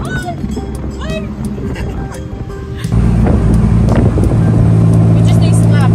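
A tuk tuk drives through Bangkok traffic. Its engine gives a loud, steady drone that grows louder partway through, with rushing wind noise and surrounding road sounds.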